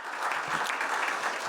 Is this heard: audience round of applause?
yes